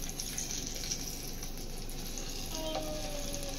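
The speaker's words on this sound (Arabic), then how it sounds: "الحله اللي انا عملت فيها البصل هنزل فيها الصلصه واعمل الصلصه هنا" Tomato sauce added to a pot of fried onions, sizzling steadily at low volume with a soft, continuous crackle and no talk.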